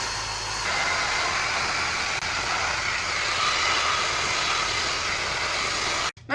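Celesta hair dryer running at maximum power indoors, a loud, steady close-up whoosh of blown air that holds for several seconds before cutting out abruptly near the end.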